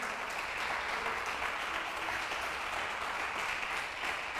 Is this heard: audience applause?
yes